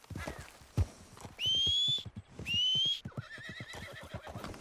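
A horse in the Red Dead Redemption 2 video game whinnies twice in loud, high, whistling bursts over a steady clip-clop of hooves, with no voices.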